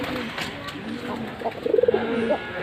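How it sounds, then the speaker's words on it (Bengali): A male Gobindo breed pigeon coos alone on its perch while its hen sits on eggs. A short run of soft, throaty pulsing coos comes through near the end over a faint hiss, with no talking. "এটা হচ্ছে গোবিন্দ কবিতর।"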